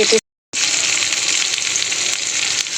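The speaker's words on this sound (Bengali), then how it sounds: "ব্রোকলির তেলের মধ্যে দিয়ে দেবো রসুন কুচি, আর দিয়ে দেবো ডুমো করে কেটে রাখা পেঁয়াজ।" Chopped garlic and diced onion sizzle loudly in hot oil with broccoli, a steady close-up frying hiss that drops out for a moment near the start, then continues evenly.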